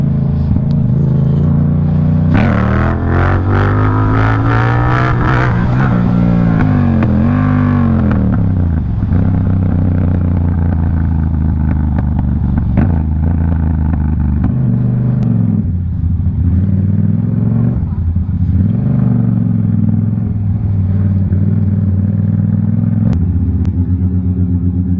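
A Yamaha MT-07 motorcycle revs hard for a wheelie, its twin-cylinder engine rising and falling in loud, close bursts of throttle over a rumbling idle, with no talk.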